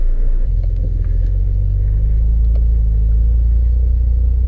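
1988 Acura Legend sedan, first drive after sitting ten years, its engine giving a steady low rumble while cruising, close and continuous with road noise and no voices.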